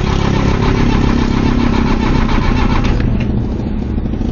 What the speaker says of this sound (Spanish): El carro ya no quiere arrancar.